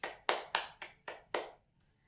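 Classroom applause during a physics lesson: six sharp, evenly spaced hand claps in quick succession, fairly close and clear, fading out at the end.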